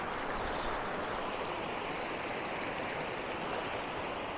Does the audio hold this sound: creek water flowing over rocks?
yes